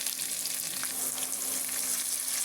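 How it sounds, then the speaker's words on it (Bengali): Capsicum and onion fry in a pan for a chili chicken and fried rice dish, giving a steady, close hiss of sizzling oil with faint stirring scrapes and a low background hum throughout, no voices. "এবার ক্যাপসিকাম আর পেঁয়াজটা দিয়ে দিলাম। একটু ভেজে নিলাম"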